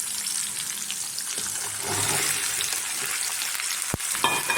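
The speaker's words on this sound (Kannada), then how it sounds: "ಇದು ಎಲ್ಲ ಚೆನ್ನಾಗಿ ಎಣ್ಣೆಯಲ್ಲಿ ಬಾಡಿಸ್ಬೇಕು." Round-cut brinjal slices fry in oil in a pan, giving a loud continuous sizzle with occasional stirring scrapes and a sharp clink near the end.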